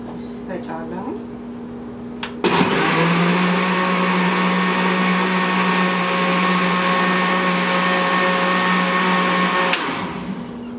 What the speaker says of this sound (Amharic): ፈጫለሁ።